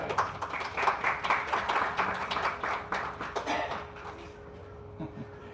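Audience applause at a Vyasa Puja birthday ceremony for a spiritual teacher, a burst of many hands clapping that builds, holds for several seconds, then thins out and fades into quieter room tone.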